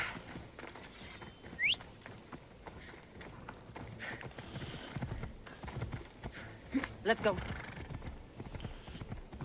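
Horse hooves clip-clop at a run in a mercenary-themed video game, a steady rhythmic pounding beneath talk, with a couple of sharp whistling sweeps and clanks along the way.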